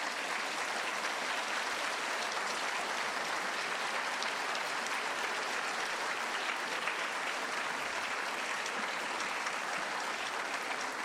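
Steady, even applause from a large audience at a school's 60th anniversary celebration, continuous dense clapping heard from a distance and alone for about eleven seconds.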